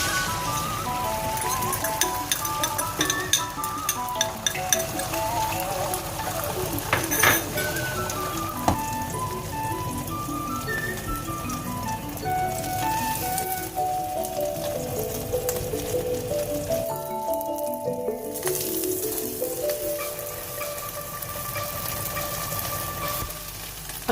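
Two eggs fry in a pan at a Lahori street-food stall making shami burgers, a loud continuous sizzle with clinks and busy ambient noise around it.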